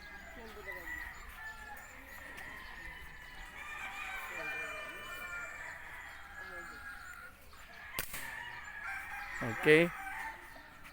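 Roosters and hens on a cock farm cluck and crow in the background, fairly distant, with a faint short voice speaking near the end.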